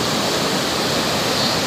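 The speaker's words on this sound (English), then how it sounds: "what an amazing river." The Bhote Koshi river rushes past Tatopani as a dense, steady roar of flowing water, close and continuous, with no voices over it.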